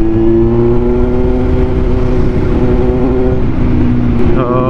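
Big touring motorcycle engine droning steadily at cruising speed during a ride on rural back roads, loud and close with constant wind noise, the pitch shifting briefly near the end.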